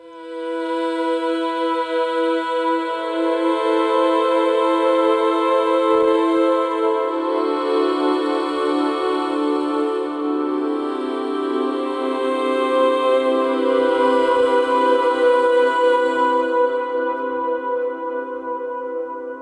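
A sampled soprano voice without vibrato holding long, airy notes, shifting pitch slowly and blending into a lush, lingering reverb wash.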